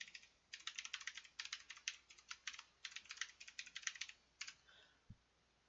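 An email address being typed on a computer keyboard, quick bursts of light clicking keystrokes close by with brief pauses between runs, quiet and without speech.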